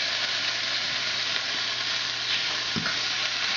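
Sausage sizzles steadily in a pan with red pepper chilies and oregano, a dense, even crackle that stays close and loud throughout, with a faint scrape near the end.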